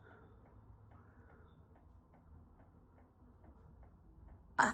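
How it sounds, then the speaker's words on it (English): An old clock ticks in a slow, steady rhythm, quiet and close, ending with a sudden louder knock. "this antique clock started ticking"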